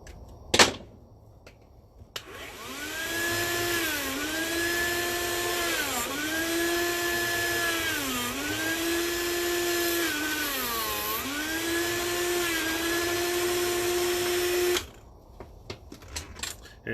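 A Dremel rotary tool whirs for about thirteen seconds, a loud close high-pitched whine that repeatedly dips and recovers in pitch as it bears on the work, with brief clicks and handling noise before and after.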